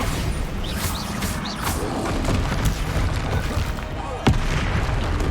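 Bombarda blasting spell in Hogwarts Legacy combat: loud booming impacts amid a noisy fight, with one sharp crack near the end.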